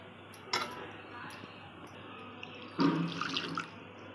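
Water poured in a thin, brief splash into ground masala with green banana pieces for frying, close and fairly soft over light background hiss, with a short clatter earlier.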